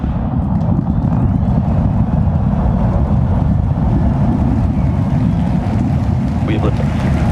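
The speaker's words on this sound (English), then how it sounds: "We have liftoff." A SpaceX Starship rocket lifts off in a loud, continuous, deep rumbling roar that crackles and stays steady throughout, with a voice calling out over it.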